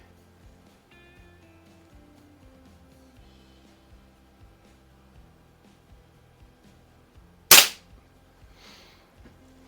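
One sharp, loud crack from an eighty-year-old pistol at a target range breaks an otherwise quiet stretch and fades quickly.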